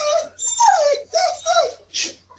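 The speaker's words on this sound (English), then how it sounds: "Yeah, that's my dog." A dog whimpering close by, a short series of about five high, wavering whines with falling pitch, loud and clear with no talking.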